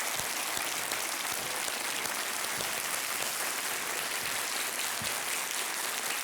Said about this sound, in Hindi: तालियों के साथ इनका स्वागत एक बार फिर से।